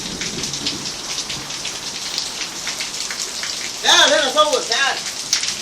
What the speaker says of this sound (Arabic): هذا المطر،